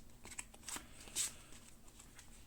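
Deck of cards shuffled during an Aeon's End Legacy board game, soft riffling and sliding card sounds in quick short bursts, close and quiet, with no talking.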